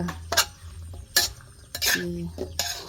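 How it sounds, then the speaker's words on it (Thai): Metal utensils clank and scrape against a wok in a few sharp strokes while stir-frying bamboo shoots, eggplant and pork, with a faint sizzle between them. "ผัดหน่อไม้ใส่มะเขือ ใส่หมู ใส่หม้อกระทะ"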